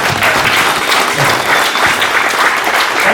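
Loud, dense applause from a conference audience at a business event, steady clapping filling the room without a break for about three seconds.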